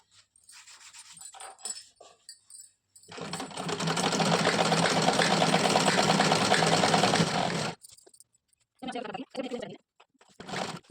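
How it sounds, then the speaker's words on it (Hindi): A sewing machine runs steadily for about four and a half seconds, stitching a half-inch folded fabric hem on a salwar, with brief handling noises and short bursts of talk around it. "आधा आधा इंच कपड़े को फोल्ड करते जाना है और ऐसे सिलाई लगा लेनी है।"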